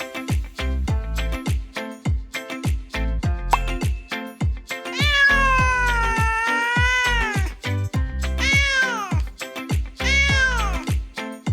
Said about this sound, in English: Wow, the cat says meow.